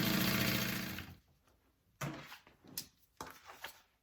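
A sewing machine top stitches the folded edge of waterproof canvas, a loud steady run for about a second, then stops, followed by a few short quieter bursts of stitching and handling.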